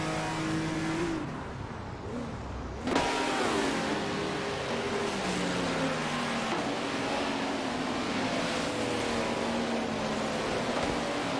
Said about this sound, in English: V4L3NA from Team Is That a podium is currently in 7th place driving a Lola, but just lost their spot to Muzarapayoa.